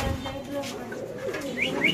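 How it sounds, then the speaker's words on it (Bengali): Black fill-back pigeons cooing softly amid a busy, noisy pigeon market, with low murmuring coos and a couple of brief high chirps near the end over steady background hubbub. "ফিলব্যাক কবুতর কালো, মাশাআল্লাহ দেখতে পাচ্ছেন"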